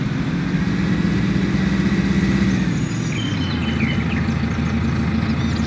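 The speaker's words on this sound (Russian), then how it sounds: "Сюда трактор загоним." A tractor engine in the Farming Simulator 19 video game runs at a steady idle for about six seconds. The rumble is loud and close and carries on unbroken, with no voices.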